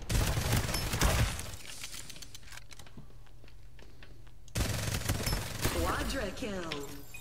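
Rapid gunfire bursts from the video game Farlight 84, loud dense volleys at the start, a quieter stretch with scattered shots, then renewed firing and effects near the end.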